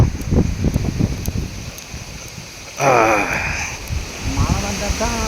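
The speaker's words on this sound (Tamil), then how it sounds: "மழையெல்லாம் வரல சும்மா காத்துண்ணா" Wind gusting steadily outdoors with no rain, a constant broad rushing that rises partway through, heard under people talking.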